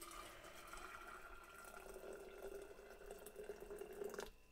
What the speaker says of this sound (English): We'll add hot water again.